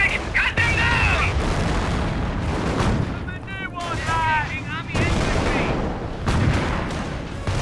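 Small arms gunfire crackles in a Company of Heroes battle, with bursts of shots, booms and explosions layered under shouted unit voice lines and speech, dense and continuous throughout.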